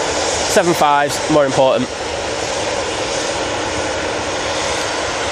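Virgin Atlantic jet airliner arriving at Manchester Airport, its engine noise a continuous loud rushing hum, with someone talking briefly over it early on.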